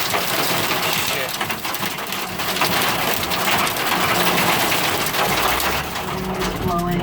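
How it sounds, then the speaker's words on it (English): Heavy rain driven by strong wind during a mini tornado in Dallas roars loudly and close, with rough crackling gusts and rattling debris that swell and ease across the stretch. "it's raining hard"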